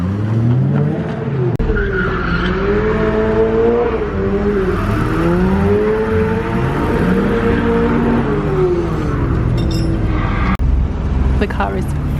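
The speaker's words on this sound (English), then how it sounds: "The car is fixed. Just warming the car up." A BMW car engine warms up on a racetrack, a loud, sustained drone with rising and falling revs and tire squeal, heard close up throughout.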